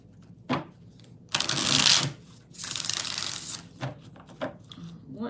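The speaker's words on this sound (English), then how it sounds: "3 more shuffles." Oracle cards being shuffled by hand in close, crisp bursts of riffling and sliding, several separate shuffles with short pauses between, fairly quiet and without talk.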